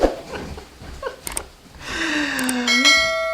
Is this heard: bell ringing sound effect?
yes